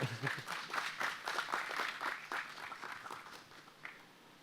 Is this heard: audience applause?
yes